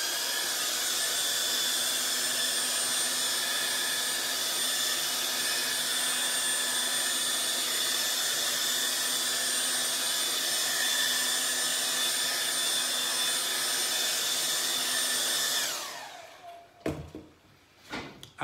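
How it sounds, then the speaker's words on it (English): A hair dryer blows with a steady, loud broadband whoosh for about fifteen seconds, then cuts off, followed by a few scattered knocks and handling noises. "let's just give a quick whiz with a hairdryer."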